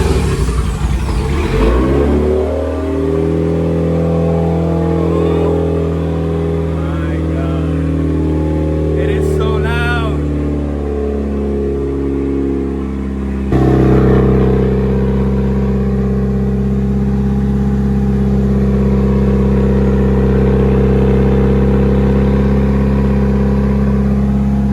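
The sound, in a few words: Mitsubishi Evo engine revving with Tomei titanium exhaust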